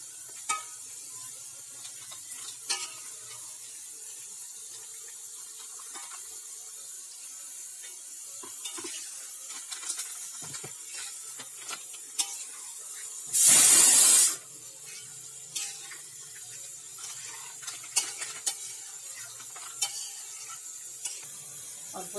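Kosha chicken in a pan after a little hot water is added, a quiet, steady simmering hiss with small scattered pops and clinks and one brief loud burst of running water midway.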